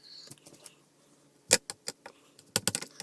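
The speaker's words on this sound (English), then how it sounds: "I should bring out my rubber tray so that we don't have all that clicking noise." A rubber stamp clicks against a hard tabletop while stamping a card, a few sharp close taps clustered in two bursts over quiet background.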